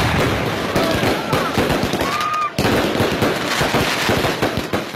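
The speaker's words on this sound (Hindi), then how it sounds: "बेशतर शहरों में आतिशबाजी से आसमान मुख्तलिफ रंगों में नहा गया।" Dense crackling pops and bangs of fireworks go off in quick irregular bursts during 2018 Pakistan election celebrations, with a crowd murmuring underneath and a brief lull midway.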